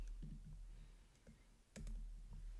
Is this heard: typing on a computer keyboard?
yes